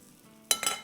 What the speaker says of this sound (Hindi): थोड़ा सा आसपास तेल डाल देंगे। चले, इसको पलटते हैं बिना अंडे वाली के।